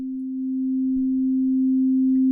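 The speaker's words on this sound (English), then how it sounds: "This is just a sinus wave, and we can look at it in the scope like this." A steady pure sine tone from an FM operator oscillator in VCV Rack modular software holds at one pitch throughout, with faint low rumbling underneath partway through.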